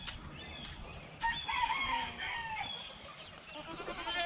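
Bantam chickens in a backyard poultry yard, partridge Wyandotte cockerels among them, cluck and crow at a moderate distance, with a rooster's crow rising clearly midway and goats kept nearby.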